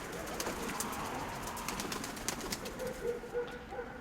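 Pigeons cooing softly amid steady outdoor background noise, with a few low murmuring calls toward the end.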